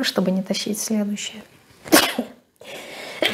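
A woman sneezes once, a sharp, loud burst right after she speaks, followed by a brief silence and then more talk.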